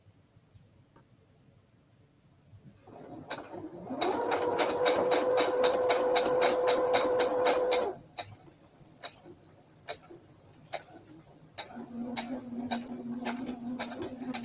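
A sewing machine stitches through a fabric Christmas ornament in a rapid, even ticking burst lasting a few seconds, preceded and followed by slower isolated clicks and a softer whirring stretch near the end, close and alone.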